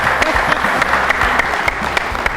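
A studio audience on an Odia television reality show breaks into loud, vigorous applause, a thick continuous clatter of many hands with a few sharper claps standing out.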